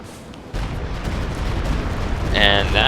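A Stuka zu Fuss rocket barrage in a Company of Heroes 2 match, a sudden burst of rumbling blasts that swells into a roaring salvo with a rising whine near the end, loud under a voice.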